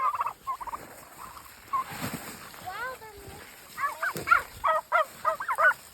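A flock of wild turkeys gobbles nearby in a series of short, warbling bursts, with a person calling to the birds and a few splashing sounds in between.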